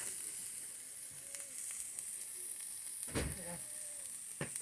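Sliced organic mushrooms sauté in a hot pan, giving off a soft, even sizzle close by, with a couple of brief clinks and scrapes from a spatula.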